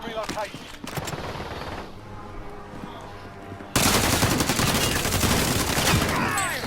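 Rapid automatic gunfire in the video game Warzone crackles in dense bursts, first under and between voices, then becoming a loud, sustained barrage in the second half.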